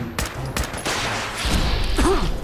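Video game gunfire plays as a rapid burst of several sharp, loud shots early on, followed by continuous in-game noise and a voice-like tone.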